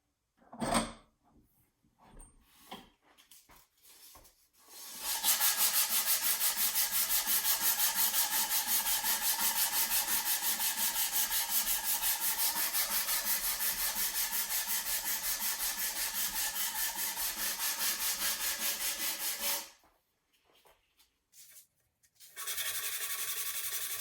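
A rattan sword for SCA combat being sanded by hand with coarse sandpaper, a long continuous rasping rub lasting about fifteen seconds, with shorter scrapes and handling sounds before and after.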